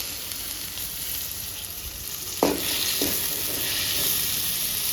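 Chopped tomatoes frying in a little oil in a pan, a steady close sizzle and hiss running throughout with two brief stirring scrapes partway through.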